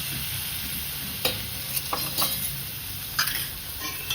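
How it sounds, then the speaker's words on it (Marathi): Mutton dusted with turmeric fries in a ghee tempering with black pepper, garlic and green chillies, giving a loud, constant sizzle with several sharp clinks and scrapes from stirring. "हे घालूया आपण मटण फोडणीला"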